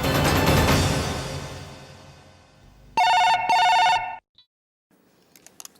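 A telephone bell rings in two bursts of bright, trilling electronic tone, separated by a short gap, after a fading musical sting and before near silence with faint clicks.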